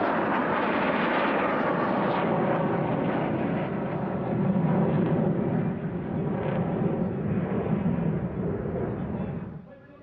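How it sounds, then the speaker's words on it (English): Jets of the Swifts aerobatic team arriving at a Russian Air Force anniversary airshow, a loud sustained roar that rumbles steadily for about nine seconds before cutting off. "The Swifts arrive with their trademark release of flares."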